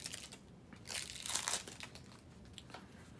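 A pack of Legends Untold: The Weeping Caves game cards is torn open, crinkling and crunching wrapper sounds peaking in the middle, close and alone.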